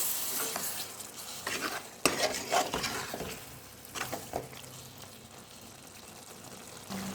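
A brinjal and tomato curry with tamarind pulp is stirred in a pan, soft bubbling sizzle with scraping spoon strokes and a sharp clank, growing quieter toward the end.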